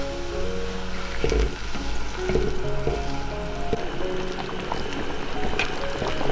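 Goose placed into a pot of boiling brown slab sugar sauce with dried tangerine peel and water, bubbling and sizzling with a few splashy knocks and clatters.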